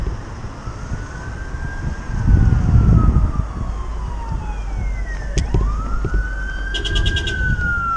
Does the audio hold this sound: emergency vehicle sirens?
yes